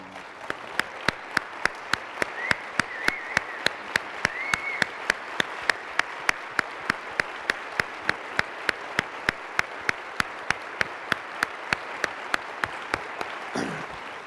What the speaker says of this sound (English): I want all of us to stand and give a rousing applause to Bill and Peter and Mimi